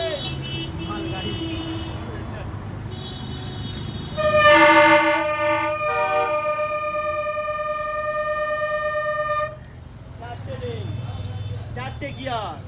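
A toy train's goods-train sound effect, one of four train sounds on a four-gear toy selling at 100 rupees, plays a loud electronic horn-like tone for several seconds over a steady mechanical rumble, with noise before and after.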